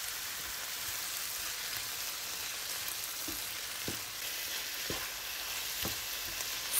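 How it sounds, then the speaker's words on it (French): Courgette and tomato cook in a pan over medium heat, giving a steady, even sizzle throughout with a few soft stirring clicks of a utensil against the pan. "Et j'ajoute ma courgette, ma tomate et je laisse cuire environ 3 minutes de plus à feu"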